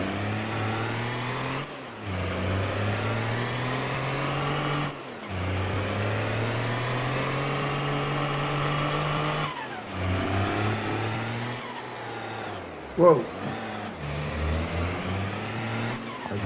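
A truck engine drives in the video game Farming Simulator 22, a steady loud drone that revs up and down with brief gear-change dips and one sharp knock, while a man briefly exclaims.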